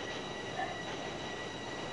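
Simulated train running on Line 4 in Toronto in the Train Sim World game, a steady rolling rumble with a faint wheel squeal, heard alone at a low level.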